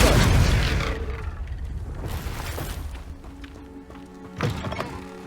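A Confringo fire spell going off in Hogwarts Legacy, a heavy boom that decays into rumbling debris, followed moments later by a second, smaller thud; loud and close with no talk.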